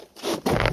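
Packaging being pulled open around a Ryobi 1500W 180mm angle grinder, sander and polisher, with a short crinkle and rip followed by a louder, sustained tearing scrape, close and without speech.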